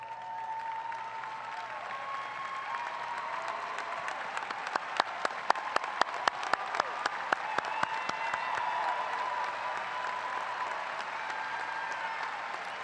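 A Sandalwood High School 2019 graduation audience applauds steadily for several seconds in a large hall, a dense wash of many hands with a few sharper nearby claps standing out midway and no voices on top.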